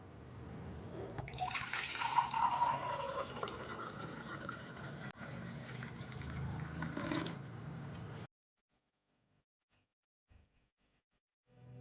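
Ginger, lime and clove tea poured through a sieve, a steady close liquid splashing and trickling stream lasting several seconds before stopping abruptly, followed by near silence with a faint clink.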